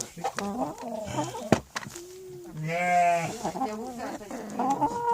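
Chickens on a farm cluck and call close by in short, irregular bursts, with a longer drawn-out squawk in the middle and scattered farmyard noise around them.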